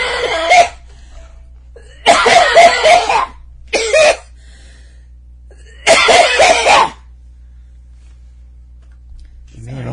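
One person coughs close and loud in several separate bursts, some single and some clustered, with quiet gaps between them in an indoor setting.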